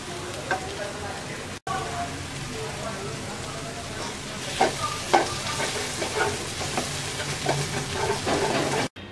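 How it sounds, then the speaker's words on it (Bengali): Ridge gourd mash with chopped coriander stirred in a frying pan, giving a steady close sizzle punctuated by repeated spatula scrapes and taps throughout. "এবার ধনেপাতা কুচি দিয়ে নাড়াচাড়া করে নামিয়ে নেব।"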